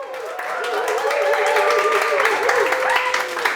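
A studio audience at a Friday-night breakfast-club show claps and cheers in a steady, dense wash that holds for several seconds, with a voice speaking over the crowd noise.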